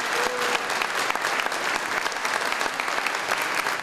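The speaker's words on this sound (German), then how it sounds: "Besonderer Applaus für die 10-jährige Marie-Louise Voss." An audience at a music school performance applauds a ten-year-old performer with steady, dense clapping that holds evenly throughout.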